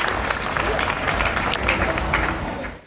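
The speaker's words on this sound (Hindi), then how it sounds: "मैं उसे बुलाऊं इससे बेहतर है आपकी तालियां बुलाएं" Audience applause at a Hindi kavi sammelan poetry event, a dense, steady burst of clapping that swells and then tapers off near the end, with no voices over it.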